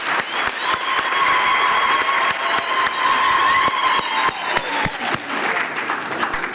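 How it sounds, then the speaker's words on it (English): A graduation ceremony audience gives a choir another round of applause, a loud full crowd ovation with sharp individual claps standing out from the mass and a faint sustained tone running beneath. "join me as we give the choir another round of applause"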